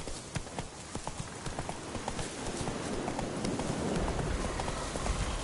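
Hooves of Roach, a horse in The Witcher 3, clip-clop at a steady gallop, a fast rhythmic patter of hoofbeats that holds close and fairly loud throughout.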